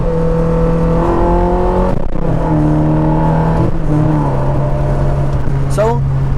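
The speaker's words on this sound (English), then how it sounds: "And this is what the sport mode does." Ferrari 360 in sport mode accelerating hard, engine note climbing in steady rising harmonics with sharp breaks at quick gear changes around two and four seconds, loud and close throughout.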